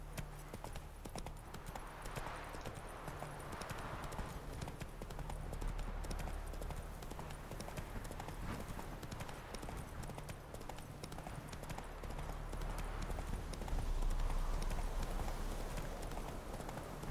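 Roach the horse trots along in The Witcher 3, hooves clip-clopping in a steady rhythm throughout over an ambient game backdrop.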